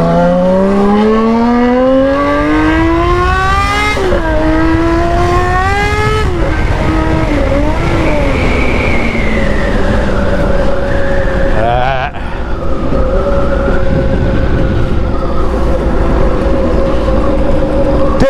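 Loud revving motorcycle engines in a video game whine up and down in pitch continuously, with rising and falling gear shifts, game-like engine roar filling the whole stretch.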